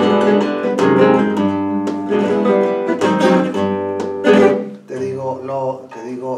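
Flamenco guitar plays a sevillana in an open flamenco G tuning with an added ninth, giving loud, close, bright rhythmic strums and ringing chords in a lively repeating pattern.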